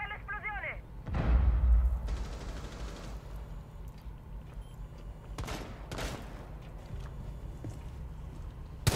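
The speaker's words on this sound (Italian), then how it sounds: "Lontani dall'esplosione." Explosion in a first-person shooter: a heavy boom hits around the one-second mark and rolls on, followed by scattered gunfire bursts and crackling impacts in the game soundscape.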